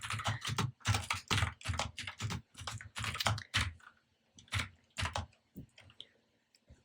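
Close, rapid typing on a computer keyboard in uneven bursts of clicking keystrokes with short pauses between, then a few scattered key taps, with no talk over it.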